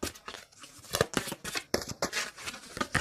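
A deck of tarot cards is shuffled by hand, with quick riffling and sliding bursts in an irregular rhythm, close and fairly quiet, no talk.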